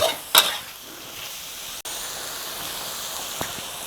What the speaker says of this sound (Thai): โอเคผัดไปเรื่อย